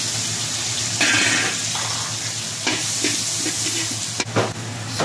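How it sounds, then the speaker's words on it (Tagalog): Garlic, onion and tomato sauté in a hot pan for a Filipino vegetable dish, a close steady sizzle broken by a few stirring scrapes and clinks, no one speaking. "Ito na yung panggisa natin. Bawang, sibuyas, kamatis. Sabay-sabay na natin guys."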